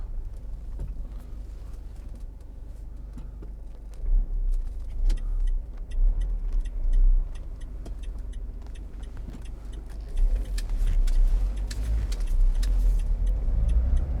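Inside a 2014 Vauxhall Vivaro 2.0 CDTi Sportive panel van on the move, a low diesel engine rumble and road noise carry on steadily, with small rattles and clicks in the cab.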